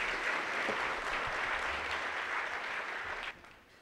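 An audience applauds to welcome university presenter Nicole Schabus to the stage, steady clapping from a mid-sized crowd that cuts off abruptly near the end.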